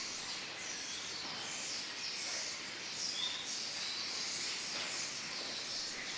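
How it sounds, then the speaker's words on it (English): Hundreds of starlings gather at dusk to roost, making a dense, continuous chattering hiss that holds steady throughout with no voices. "It was starlings, hundreds of them, coming in to roost before dark."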